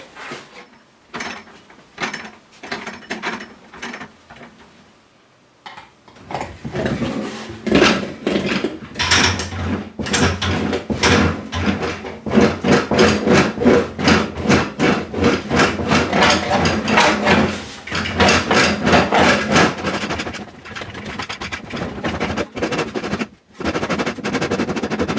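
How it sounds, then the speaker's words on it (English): Sheet metal being worked on an English wheel in a home garage during a first practice piece, a dense, continuous rattling and rolling clatter with metallic rhythmic pulses, loud and sustained after a quieter intermittent opening. "So it gives me plenty to grab hold of as I'm wheeling."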